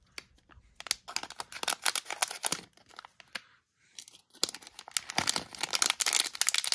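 Plastic and cardboard packaging of a Disney Doorables Jack and Sally toy figure being cut open, heard as close, crinkly snips and rustles in uneven bursts with a brief lull midway.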